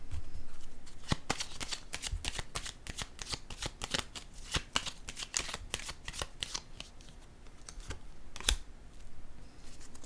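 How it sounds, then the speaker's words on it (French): Playing cards handled on a table, with a run of sharp clicking and snapping taps close by, many quick strikes across the span and one louder slap near the end, no talking. "Je vais déposer ici une carte."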